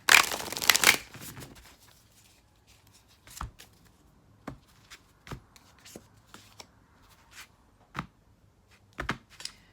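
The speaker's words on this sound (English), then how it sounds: "as I was sitting here shuffling the deck" Close, dry riffling burst at the start, then a series of short, crisp papery taps and slaps spaced irregularly in an otherwise quiet room.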